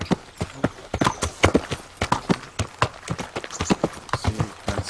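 Horse hooves clip-clopping in the medieval video game Kingdom Come: Deliverance, a rapid, loud, uneven series of sharp hoof strikes, as at a trot.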